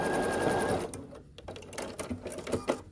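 A sewing machine whirs in a quick close burst as it stitches scrappy sampler quilt block pieces together, then stops and gives way to soft clicks and fabric handling.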